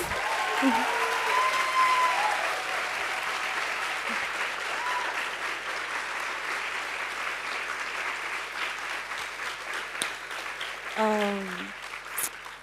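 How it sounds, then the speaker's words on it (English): A lecture audience applauds a guest professor at an evening event, a steady crowd clapping that holds for several seconds before thinning out, with a few voices faintly audible beneath it. "I think that's a round of applause, guys."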